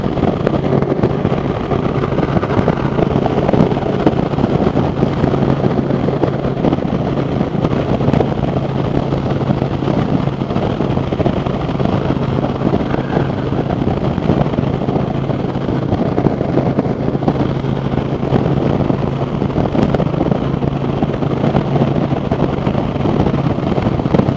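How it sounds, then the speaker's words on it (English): Steady, heavy wind rushes and buffets against the microphone on a moving 2020 Indian Challenger Darkhorse motorcycle, with a constant low engine drone underneath, unbroken throughout. "Might be a little windy today."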